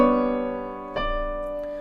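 A keyboard plays a short melodic phrase of sustained tones, a brief appoggiatura leaning into a held note near the middle, close and clear with no talking.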